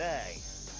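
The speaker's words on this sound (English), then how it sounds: "Alright, what is this? Cicadas." Cicadas buzzing in the American South, a dense, steady high-pitched drone that fills the whole short stretch, loud and close with no pauses.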